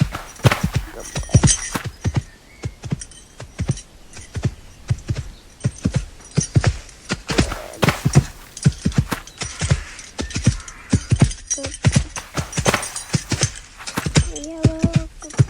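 Hooves of a former Grand Prix horse clip-clopping steadily during a riding competition, with close, rhythmic beats throughout and a brief tonal sound near the end.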